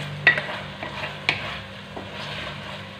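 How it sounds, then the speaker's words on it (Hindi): Okra cooks in a korma gravy in a pan, giving a gentle bubbling simmer. A few sharp spoon taps and scrapes against the pot stand out near the start and middle. "इसमें मैं भिंडियां डाल दूंगी।"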